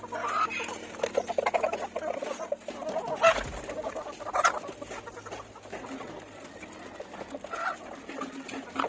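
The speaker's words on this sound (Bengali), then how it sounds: "মুরগিগুলো আমার হাতে এসে খাবার খেতেছে," Farm chickens cluck and peck as they eat feed from a hand. The soft, irregular clucks are close by, with occasional louder calls and scuffling, and no talking.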